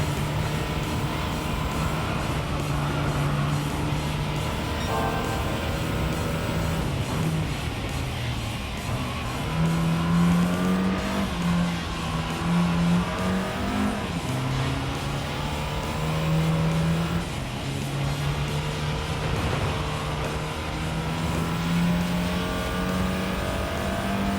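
Race car engine drones steadily through the whole stretch in Gran Turismo, its pitch climbing and dropping with gear changes and tire noise mixed in, loud and continuous with no talk over it.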